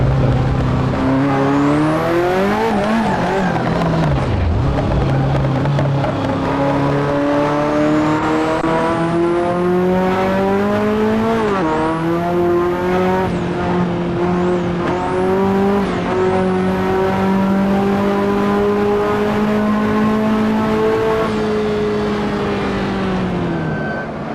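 A car drifts in the Assetto Corsa racing game on tires poorly suited to drifting. A loud, continuous engine drone rises and falls with throttle, with high tire squeals sliding over the top for long stretches.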